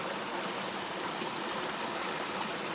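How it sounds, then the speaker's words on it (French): A cascade of small waterfalls pours through a river torrent in a rocky gorge, a steady, dense rushing roar that stays even and close throughout with no voices. "joli ensemble de cascades ici"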